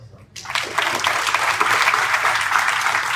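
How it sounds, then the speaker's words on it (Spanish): An audience at a keynote lecture on education bursts into applause after a brief quiet, then keeps up a steady, dense clapping to the end. "Un aplauso."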